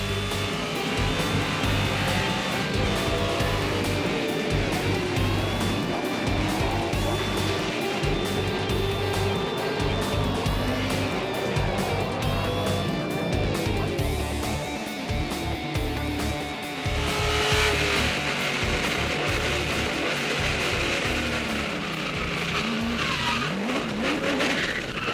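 A race car runs hard around a track on its third lap, its engine a loud, continuous, close roar with rising and falling revs, tire skids and squeals blending in throughout.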